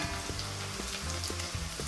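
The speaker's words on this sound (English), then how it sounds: "I'm gonna roast the onions and the briskets together for 5 minutes" Onions and brisket roasting together in a pan for an artichoke and dry pear dish, giving a steady close sizzle with soft periodic stirring scrapes throughout.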